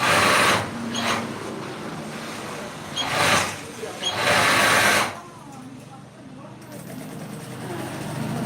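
A sewing machine in a tailoring shop runs after its thread tension has been adjusted, a loud whirring burst close by that comes in short runs and then fades, with people talking in Tamil nearby.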